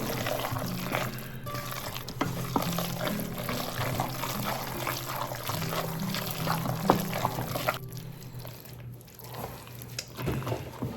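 Canned soup is poured into a tuna casserole with cheese, giving a continuous wet, sloshing pour and gloopy stirring sounds at close range that run steadily throughout.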